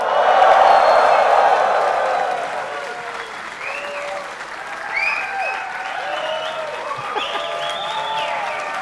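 Audience of about 750 people applauding in a room, a loud burst of clapping that fades after a couple of seconds into scattered claps, whoops and murmured chatter.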